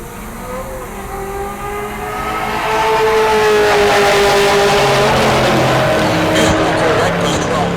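A Corvette in the 12.0 class launching down a drag strip at Heartland Park Topeka, engine note climbing in rising sweeps as it accelerates away, loud and sustained with crowd and track ambience around it.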